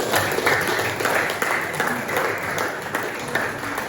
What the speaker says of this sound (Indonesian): mari kita aplaus untuk kegiatan kita hari ini.